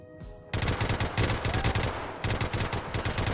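Rapid bursts of turret gunfire in the video game Rimworld, loud and sustained in rhythmic volleys after a brief quieter lead-in, with no talk over it.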